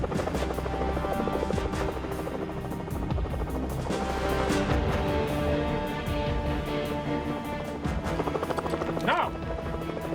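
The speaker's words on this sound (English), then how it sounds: "Chopper. Could be their getaway." Helicopter rotor thudding steadily and loudly nearby throughout, a continuous churning drone with mixed background noise and no clear speech.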